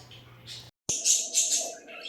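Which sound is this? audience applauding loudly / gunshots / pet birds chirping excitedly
pet birds chirping excitedly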